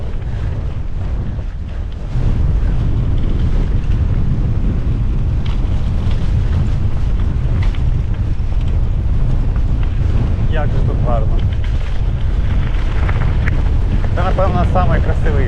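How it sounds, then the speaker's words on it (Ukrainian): Strong, continuous wind roars and buffets the microphone at close range on a mountain top in Ukraine, with faint voices occasionally audible beneath the gusts. "Зараз нормальний такий вітер."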